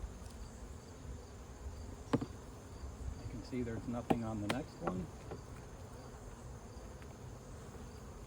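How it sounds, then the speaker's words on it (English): Honey bees buzz steadily around an open hive during a hive inspection, a constant insect hum beneath a quiet voice talking, with a few sharp knocks of hive equipment. "there's plenty of bee activity"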